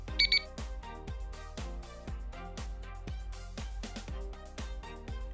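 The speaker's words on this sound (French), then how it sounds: "C'est tout simple, on attend le bip." An AbdoForte abdominal exercise device gives off regular electronic beeps, steady and evenly spaced at a brisk pace, with a continuous tonal hum underneath, fairly quiet and with no talking.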